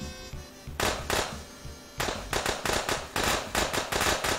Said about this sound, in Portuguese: Explode como fogos de artifício.